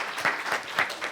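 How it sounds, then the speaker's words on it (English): A church congregation claps together in a brief, rhythmic burst, with a few strong, evenly spaced beats standing out over a wash of scattered hand claps. "we can clap for that"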